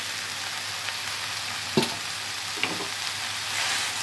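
Rice being stirred and mixed in a pan, a soft continuous sizzle with a couple of light scraping knocks from the spoon, no voices.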